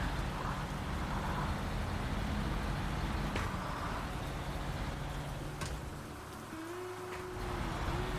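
Rain falling across the Michigan map in the truck-driving game SnowRunner: a constant moderate patter heard from inside a vehicle, with a low engine rumble beneath and a couple of brief knocks.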